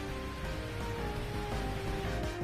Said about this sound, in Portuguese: Chove bastante na região metropolitana